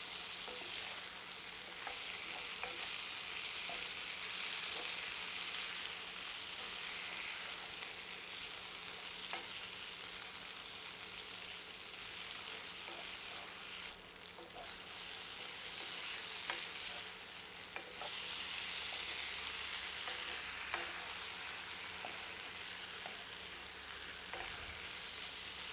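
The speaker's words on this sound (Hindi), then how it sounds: "सबको मिलाते हैं और 2 मिनट मध्यम आंच पर भूनते हैं।" Mashed potato mixture with crushed red chilli and salt roasts in a pan over medium heat, giving a soft, steady sizzle with faint stirring scrapes, quiet and continuous with no talking.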